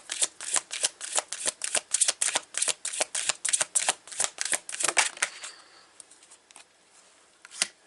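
Tarot cards being shuffled by hand: a quick run of crisp, rhythmic riffling bursts, close and fairly loud, then quieter scattered flicks and slides as cards are drawn and laid out.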